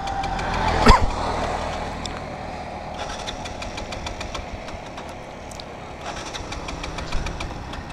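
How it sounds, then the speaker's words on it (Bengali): A Bajaj Pulsar motorcycle fails to start after a sharp starter clunk, followed by repeated rhythmic ticking and cranking bursts over a low, uneven mechanical rumble, close and moderately loud. "ওকে আমি স্টার্ট দেওয়ার জন্য ট্রাই করি,"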